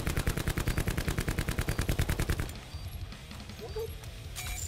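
A rapid burst of automatic gunfire in Black Ops III multiplayer, loud and close with a fast regular rhythm for a couple of seconds, then fading to quieter game ambience with a few distant sounds.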